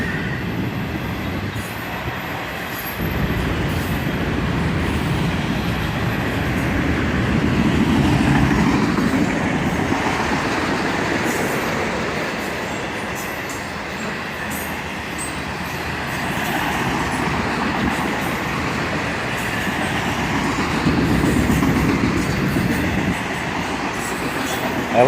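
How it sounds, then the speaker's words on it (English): An auto-rack freight train led by a single ES44AC locomotive passes nearby in a continuous rumble, wheels clacking over rail joints with occasional faint squeals, rising and falling as the cars roll by. "An auto-rack train with a single ES44 AC on the front."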